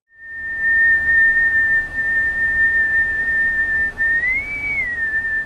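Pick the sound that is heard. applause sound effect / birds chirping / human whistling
human whistling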